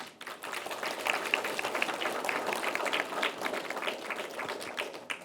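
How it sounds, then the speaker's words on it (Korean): An audience at a literary prize ceremony, the Kim Man-jung Literature Award, claps for the award winners, a dense, even round of applause held for several seconds without speech over it. "수상하신 분들께 진심으로 축하의 박수를 보냅니다."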